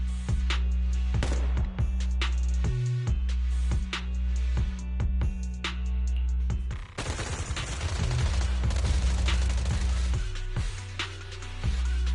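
Sustained suppressive marching gunfire in Zenless Zone Zero, loud and continuous with repeated bursts and sharp shots over a heavy low rumble, a dense barrage filling the whole stretch.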